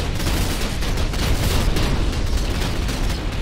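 Dense, continuous turret fire from a capital ship in a sci-fi space combat game, a steady roar of rapid shots and booms at close range with no gaps.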